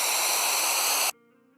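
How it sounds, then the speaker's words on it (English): An uplifter riser with a tubey, resonant tone, used in electronic music production: a loud, dense noise swell with ringing harmonic bands that stops sharply after about a second, followed by a quiet sustained tone. "then we have this one which kind of has like a tubey sound to it."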